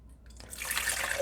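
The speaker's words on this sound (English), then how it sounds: "8 ounces of water in the cup." Water poured into a cup starts after a brief pause and builds into a close, rising trickle and splash.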